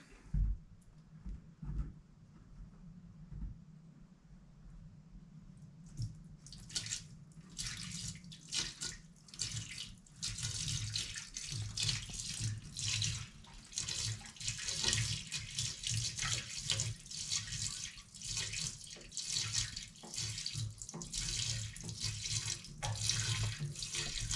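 Water is poured into a narrow hole of an off-grid drain pipe being leak-tested on a system built without P-traps, making a steady splashing, gurgling pour that starts after a few seconds and continues loudly to the end.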